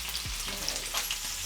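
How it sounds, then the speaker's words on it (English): Meatballs frying in a pan of cooking oil while a rice and meatball sauce is prepared, a steady close sizzle and crackle running evenly throughout with no talking. "the oil that we used in frying the meatballs"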